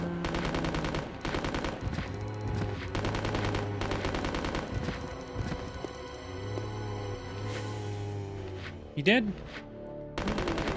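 Rapid bursts of submachine gun fire in Resident Evil Code Veronica X, loud and repeated across the whole stretch, with a voice talking between and over the shots.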